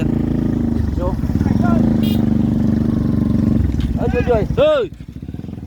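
A motorcycle engine on a risky rural route runs close with a steady low putter, with people talking and calling out over it, and a few revving swells near the end.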